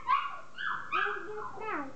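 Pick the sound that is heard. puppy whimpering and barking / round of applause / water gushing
puppy whimpering and barking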